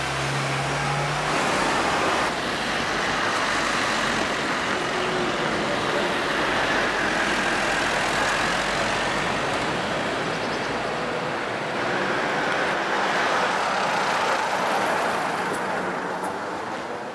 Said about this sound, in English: Despite the roads being so narrow, there are still buses.